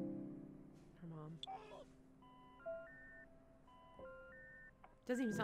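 In an animated show, a phone call's electronic tones sound in short stepped beep sequences, quiet and tinny, with brief talk and other noises around them.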